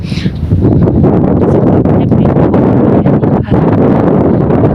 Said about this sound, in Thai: เพราะว่าตอนนี้ลมแรงมากเลย